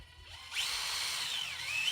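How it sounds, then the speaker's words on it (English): A power drill drilling a pilot hole spins up after a short quiet moment, whining at a steady high pitch with a slight dip and rise in speed. "After you drilled your first pilot hole and you're going on your second"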